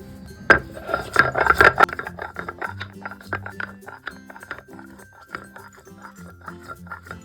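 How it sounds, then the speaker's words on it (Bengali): Ginger and garlic are ground into a fine paste for marinating paneer for chilli paneer, heard as a steady scraping and rubbing on a hard surface with a few clinks, close and moderately loud. "আদা আর রসুনটা পনিরটাকে ম্যারিনেট করার জন্য বেটে নেব"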